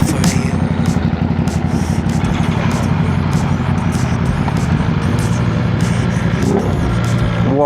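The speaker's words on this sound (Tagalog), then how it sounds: "sarap ng tunog ng motor ni Boy Helmet" A motorcycle engine revving nearby, a loud, steady, throaty low rumble with repeated rising pulses of throttle, running continuously throughout with no talk over it.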